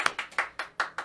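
A handful of people clap for farmers and ranchers at a Guam celebration, six sharp, evenly spaced claps in about a second, moderately loud with no talking.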